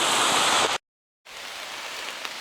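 Heavy rain pours on a forest trail in Oil Creek State Park, Pennsylvania, a dense close hiss that cuts out briefly midway and then resumes.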